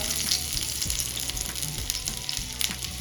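Chopped onion goes into two to three spoons of hot oil on a tava and fries with a loud, continuous sizzle, over low thumps and scrapes of stirring.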